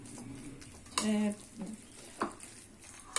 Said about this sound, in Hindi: अब हम इनको फ्राई करेंगे।